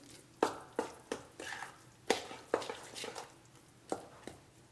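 Vegan burger mix stirred by hand in a bowl, a series of soft, close, irregular squishing and scraping strokes with brief pauses between them.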